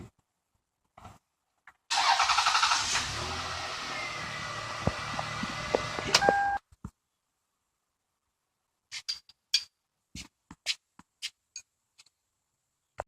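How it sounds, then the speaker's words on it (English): A Lexus ES300 engine cranks and fires with the ignition, then runs in a loud, steady idle for about four seconds before cutting off into silence, followed by scattered faint clicks and ticks. "So if I turn the ignition on"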